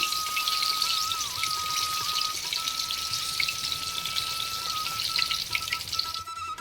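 Yardlong beans fry in hot oil with a dense, continuous crackling sizzle that holds steady and close throughout before cutting off at the end, with no talking.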